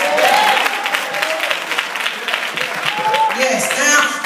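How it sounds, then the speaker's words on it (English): A church congregation claps their hands during a sermon, a dense, steady patter of many hands throughout, with voices and shouts rising over it. "Clap your hands."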